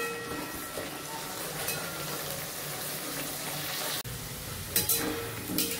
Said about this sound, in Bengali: আলু আর কোয়াশটা দিয়ে দিলাম, এবার আমি এটাকে ভালো করে আগে ভেজে নেব।